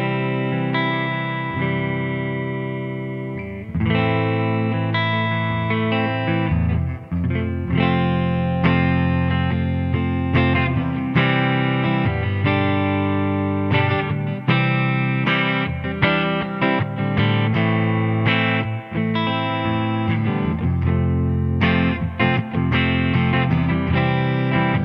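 An electric guitar on its neck pickup played through a '65 Deluxe Reverb amp, a continuous loud stream of chords and notes with some overdriven edge and reverb, no talking.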